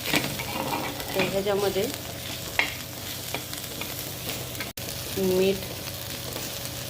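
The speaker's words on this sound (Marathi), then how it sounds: "कांदा भाजाय ठेवलेला आहे" Onion frying in a pan, turning reddish, sizzling steadily and stirred now and then, while someone speaks briefly over it.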